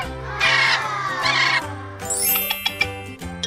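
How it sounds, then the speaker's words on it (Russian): A cartoon parrot squawks in a children's riddle animation, with several bright harsh calls over a light musical backing and a rising whistle toward the end. "Это попугай."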